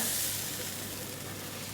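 A steady, bright hiss of meat sizzling skin-side down on a hot charcoal grill, constant and close, with no other sounds.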